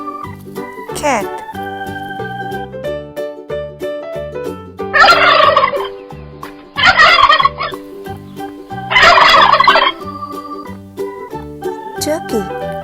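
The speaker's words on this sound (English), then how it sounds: "Turkey." Three loud bursts of cartoon turkey gobbling from an animated farm animal, set over a bouncy children's nursery tune with a playful jingle at the start and end.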